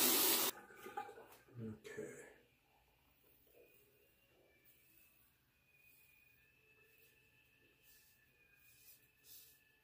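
A bathroom tap runs water for rinsing after a wet shave, a steady hiss of flow after a louder opening splash, fairly faint and close, with someone speaking over part of it.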